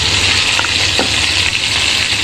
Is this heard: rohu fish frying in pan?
yes